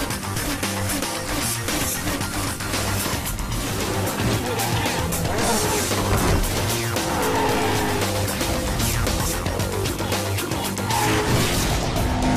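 Sports car engines roar alongside tire squeals in Need for Speed Hot Pursuit, with cars such as the Bugatti Veyron, Porsche 911 GT2 and Gumpert Apollo, a dense, continuous game mix that stays loud throughout with possible music underneath.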